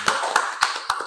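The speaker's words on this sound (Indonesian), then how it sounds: "Ya, tepuk tangan untuk kita semua." Four crisp, evenly spaced hand claps ring out in unison from a vocational school class in a quiet classroom, each sharp and short with brief gaps between.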